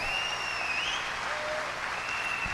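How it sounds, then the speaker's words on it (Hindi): Steady, enthusiastic applause from a crowd at an Amway Diamonds celebration fills the space, dense and continuous, with a faint high whistle-like tone running through it. "जोरदार तालियों से स्वागत कीजिए मेरी ब्यूटीफुल वाइफ सीता।"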